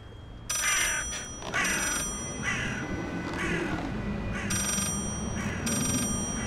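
Phone ringing inside the VR game Richie's Plank Experience: repeated bursts of a bright electronic ringtone, about five rings in evenly spaced pairs, clear and close over a low ambient hum.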